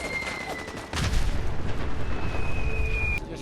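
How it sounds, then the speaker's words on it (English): A mortar explosion in the video game Fallout 4 hits about one second in as a sudden heavy boom, followed by a rumbling low roar that lingers for a couple of seconds alongside a faint high electronic tone. "It was a mortar. Somebody dropped a mortar."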